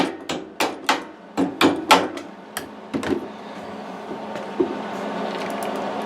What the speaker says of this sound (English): knock these screws off the back